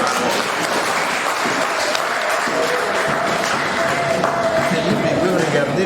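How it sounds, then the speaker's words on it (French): An audience at a church diocesan jubilee celebration applauds steadily, a dense continuous wash of clapping from many hands heard close and loud throughout. "On applaudit l'oiseau."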